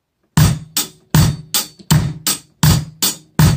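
A drum set plays a steady groove, the bass drum landing on every quarter note beneath crisp, evenly spaced hits, loud and close with clear silent gaps between strokes.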